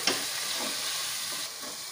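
Chicken fry sizzling in a pan as chili powder is stirred in, with a steady close hiss of frying and a few soft spoon scrapes throughout, no talking.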